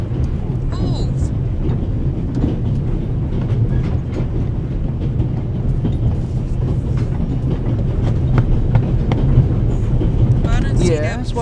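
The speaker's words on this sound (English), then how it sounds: "The noise on this train is driving me crazy." Steady low rumble and rattle inside a moving train carriage, continuous and fairly loud throughout, with faint scattered voices and clatter in the background.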